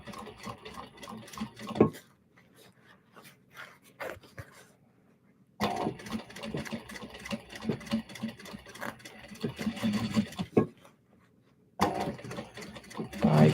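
A sewing machine stitches a seam on a Glenda bag in steady whirring bursts, close and fairly loud, separated by pauses with faint handling noise.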